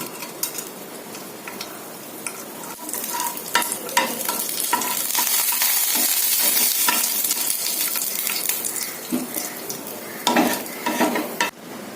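Mustard seeds and black urad dal crackle and sizzle in hot oil, a dense close sputtering with sharp pops and clicks that swells mid-way and carries occasional utensil taps.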